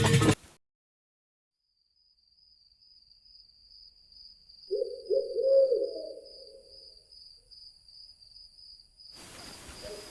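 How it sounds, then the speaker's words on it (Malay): An owl gives a single low, drawn-out hoot from a tree branch against a quiet moonlit night background of steady, high-pitched cricket chirping. "Si pungguk pula seperti biasa berbunyi dari atas dahan pokok."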